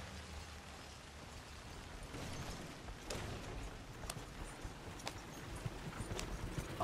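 Horse hooves clip-clop steadily while riding in Red Dead Redemption 2, a continuous mid-level trotting rhythm with a few sharper knocks in the second half and no talking.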